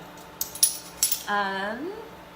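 A metal spoon clinks sharply a few times against kitchenware, quick bright taps, followed by a brief tonal squeak or hum.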